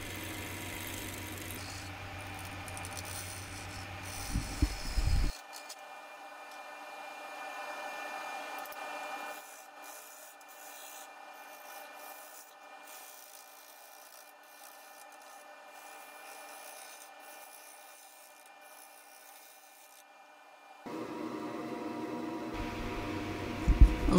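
A bowl turns on a wood lathe while a bowl gouge cuts it, giving a soft, steady scraping rasp over the hum of the motor. The low hum drops out for a long middle stretch and returns near the end.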